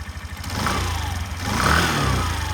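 A Suzuki Address V 125 G scooter with 3500 km on it, a new engine, revs up close by, a steady mid-pitched engine hum that swells louder during the second half of the short burst.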